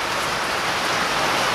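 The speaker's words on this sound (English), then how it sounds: "It's raining good now, boys." Steady rain pours down in a dense, even hiss, loud and close, with no pauses or voices.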